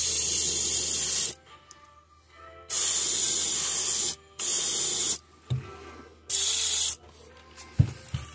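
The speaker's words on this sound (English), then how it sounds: "we're just going to spray this on his belly" An airbrush sprays pearl white paint onto the belly of a smallmouth bass fishing lure, heard as four close, steady bursts of hiss separated by short pauses, with faint handling clicks near the end.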